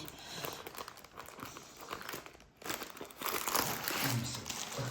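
Plastic packaging for an embroidery order crinkles and crunches as someone struggles to unwrap it, in close, loud, uneven bursts that grow busier toward the end.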